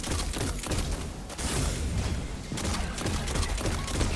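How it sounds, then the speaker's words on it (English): Explosions and gunfire in the video game Destiny 2, during a Perdition Lost Sector run, a dense, continuous roar of blasts, thumps and whooshes that stays loud throughout. "That explosion will kill what I need to."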